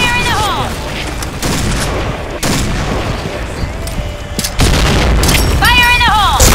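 Grenade blasts and bursts of gunfire in a shooter video game played with the AN94 rifle, with booming impacts and rapid shots coming in close, loud waves while a voice talks over them.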